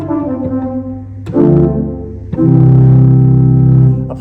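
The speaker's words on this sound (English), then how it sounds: "the first stop on the grate is an 8-foot open diapason" An Abbott & Smith pipe organ sounds its 8-foot open diapason stop: bright, sustained chords in three phrases, each entering with a sharp onset and holding steady at full, even volume.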